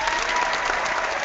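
A live audience breaks into dense, continuous clapping, close and loud, filling the brief moment without a break.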